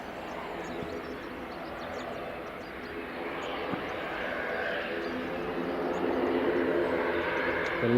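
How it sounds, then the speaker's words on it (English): A Loganair ATR taxiing to the runway at Edinburgh Airport, its turboprop drone steady at a distance and slowly growing louder, with faint voices underneath. "The Loganair ATR just taxiing to the runway."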